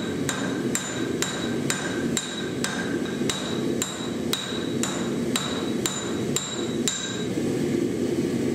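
A 4.5-pound short-handled sawmaker's hammer strikes steel while forging the bevels of a seax blade, a steady run of about fourteen ringing metallic blows at a regular rhythm, close and loud over faint background noise.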